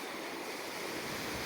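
Ocean waves wash onto Mavilette Beach as a soft, continuous hiss of surf, faint and even throughout, with no voices.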